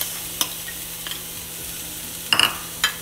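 Potatoes going into onions already frying in a pan, with a continuous sizzle, a few sharp scrapes and clatters as the pieces drop in and get moved around, close and fairly loud.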